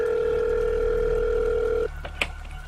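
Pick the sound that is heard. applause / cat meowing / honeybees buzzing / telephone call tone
telephone call tone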